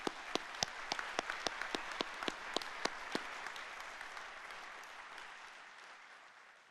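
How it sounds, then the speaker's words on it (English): A city council audience applauds at a State of the City event in Chandler, steady clapping that starts fairly strong with a few sharp individual claps standing out, then gradually thins and fades toward the end. "Let's give them all a round of applause."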